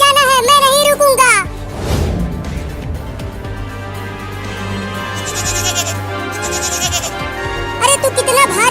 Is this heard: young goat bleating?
yes